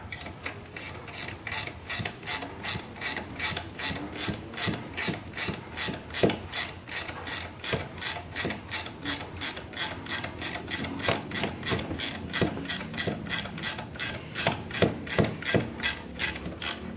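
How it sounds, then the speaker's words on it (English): A ratchet wrench tightens the alternator belt on a 2013 Kia Rio, giving a steady, rapid train of close clicking strokes that repeats evenly throughout, with no talking. "now we'll start tightening now. Don't over tighten it."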